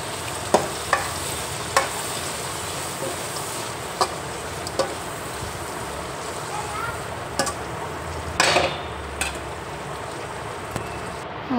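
Washed dried fish frying in a pan for a gongura curry, a continuous crackling sizzle with periodic scrapes and knocks of a spoon stirring, close and fairly loud, with no talk.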